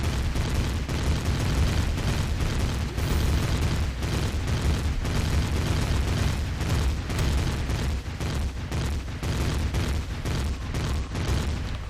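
Continuous rumbling explosions and bursts as a spaceship is destroyed in the space survival game Empyrion Galactic Survival, a dense, loud barrage of booms pulsing steadily with no pauses.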